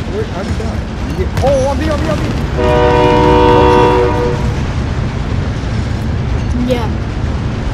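A train in a video game sounds a loud, sustained horn for about a second and a half amid rumbling rail noise, with players' voices around it.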